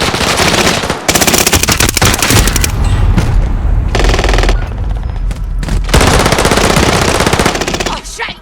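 Loud, dense automatic gunfire and explosions fill a Call of Duty Modern Warfare firefight. Rapid bursts come with brief gaps and heavy booming hits.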